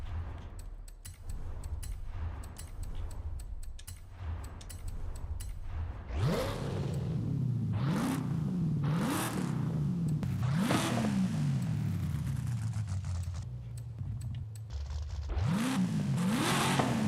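A car with a stock 210-horsepower engine revving hard in the racing game Forza Horizon 5: a low idle drone, then a series of loud rising revs rolling up and dropping back, repeated several times.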